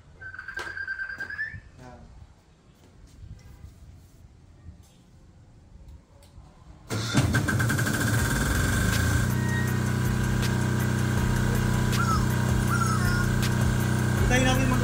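A Philking 10kVA diesel silent generator cranks and fires up at a home in Calapan City, jumping abruptly to a loud, steady running drone after a stretch of quieter background with an electronic beeping tone early on.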